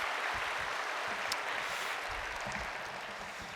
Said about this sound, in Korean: 우리 서로를 위해 좀 같이 박수할까요?